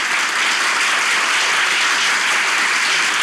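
Theater audience applauding at the start of a show at Kadıköy Duru Tiyatro, a dense, steady wash of many hands clapping that stays loud and even throughout, with no voices over it.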